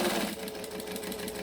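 Sewing machine stitching lining fabric, a quick steady mechanical whirr with rapid needle ticks, close and moderately quiet.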